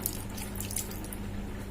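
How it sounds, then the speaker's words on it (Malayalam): Water poured into a pan of prawn curry, a short steady close splashing stream. "എന്നിട്ട് ഇതിലേക്ക് ആവശ്യത്തിന് വെള്ളവും ചേർത്ത് കൊടുക്കുക."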